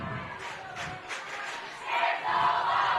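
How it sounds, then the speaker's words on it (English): Vikings home fans roaring at a football game, a broad crowd cheer swelling from a steady background roar into a louder surge toward the end. "you can hear the Viking faithful in the background with the obvious cheer"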